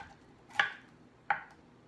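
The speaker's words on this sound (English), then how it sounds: "right now I am going to go ahead and cut up the pineapple into slices" A knife cuts through a pineapple on a board, slicing it into pieces: two crisp, separate chops about a second apart in an otherwise quiet kitchen.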